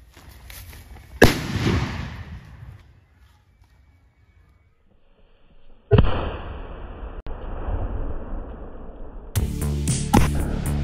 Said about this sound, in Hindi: अभी जो बोतल फटा था ना वो उसे हम ढूंढ रहे हैं